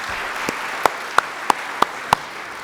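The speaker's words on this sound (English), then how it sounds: "let's give Bambi and her staff a huge round of applause" Audience at a state disability affairs awards ceremony applauds, with a soft crowd clapping bed punctuated by several loud, sharp, close claps spaced about a third of a second apart.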